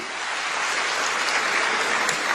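Applause fills a conference hall during a SADC ministers' meeting. It is a dense, steady clapping from a large audience, sustained and even throughout, with no speech over it.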